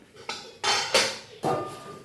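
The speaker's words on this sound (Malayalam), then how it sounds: "ഇനി നമുക്ക് ഒരു ഉണങ്ങിയ പാത്രം എടുക്കണം" Dry containers and dishes clinking and clattering as one is taken out in a home kitchen while preparing raw green mango, several separate knocks and rattles at close range with no talk.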